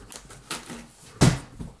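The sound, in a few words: pens dropping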